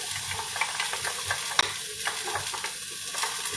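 Onions frying in a pot for one-pot chilli lemon vermicelli, a steady close sizzle with scattered crackles, stirring scrapes and one sharp knock partway through, with no voices.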